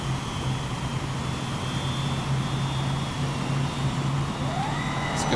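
Aircraft engine drone in Xenoblade Chronicles X, a steady low hum with a faint high whine held throughout, loud and continuous with no talking.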